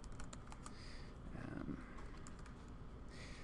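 Rapid keystrokes on a computer keyboard: a steady stream of light, close clicks with small pauses, fairly quiet and with no voice over them.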